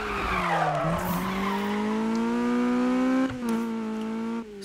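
A racing car engine in Need for Speed whines with rising and falling revs while tires screech and skid across the surface, loud and continuous without any talk.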